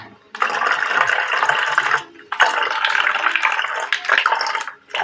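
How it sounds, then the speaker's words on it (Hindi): Water pours into a bottle in three separate splashing bursts, each a few seconds long with short pauses between, loud and close. "देखिए, इसमें पानी डाला जाता है।"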